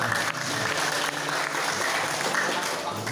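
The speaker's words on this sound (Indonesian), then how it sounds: "Tepuk tangan semuanya dulu." Audience applause at a Dayak Tobag customary council assembly and inauguration, a dense steady clatter of many hands clapping that holds for about three seconds, with faint voices under it.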